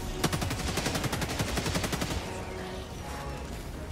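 Rapid automatic gunfire from the video game Helldivers 2 hammers out in a dense, steady burst for about two seconds, then cuts off, leaving a rumbling battlefield background.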